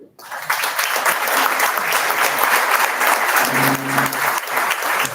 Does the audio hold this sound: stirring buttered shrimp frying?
no